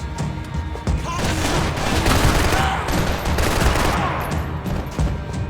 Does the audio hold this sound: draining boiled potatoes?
no